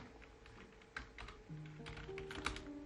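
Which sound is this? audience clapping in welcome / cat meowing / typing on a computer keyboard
typing on a computer keyboard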